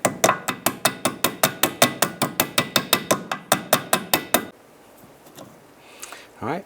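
Rust is tapped off the rear e-brake cable of a 2006-10 Honda Civic with about twenty quick, evenly spaced metallic knocks, close and sharp, then the work falls quiet with faint shuffling.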